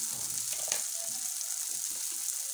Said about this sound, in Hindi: इसको भी इसी ऑयल में हम हल्का सा रोस्ट कर लेंगे